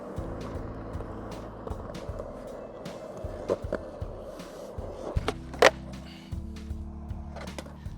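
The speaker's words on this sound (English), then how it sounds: "let's try like a heel flip" A skateboard rolls with a continuous wheel rumble and scattered clicks, then at a heel flip attempt sharp board snaps and a loud clack land near the middle before rolling resumes, close and without talk.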